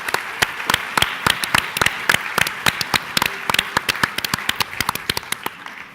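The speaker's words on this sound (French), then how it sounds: "Allez, on peut applaudir le bassin d'Arcachon." A small audience at a tourism event claps, with sharp individual hand claps forming a loose, fairly close rhythm that holds steady and then thins out at the very end.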